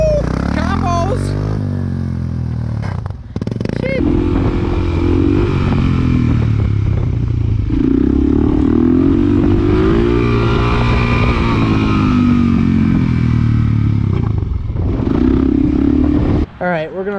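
A Suzuki DRZ supermoto motorcycle revs hard through wheelies, a loud close engine rising and falling in long pulls with wind buffeting, and voices shout briefly over it.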